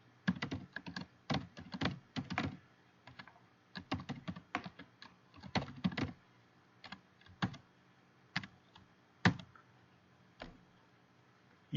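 User details are typed on a computer keyboard, giving quiet, close key clicks in quick bursts separated by short pauses, with no talking.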